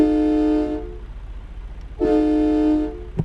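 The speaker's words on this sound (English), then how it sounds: "That's my air horn." A truck air horn in American Truck Simulator gives two loud sustained blasts, each close to a second long, split by a short pause. Low engine rumble runs underneath.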